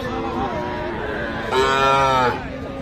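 A bull calf at a busy village cattle market moos loudly once, a long drawn-out bellow in the middle, over the murmur of a crowd and other cattle.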